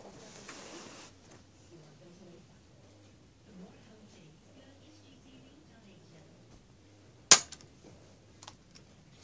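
A Nerf Reflex IX-1 toy blaster fires an Elite dart with a single sharp, close pop, followed by a few small clatters, after quiet low talking.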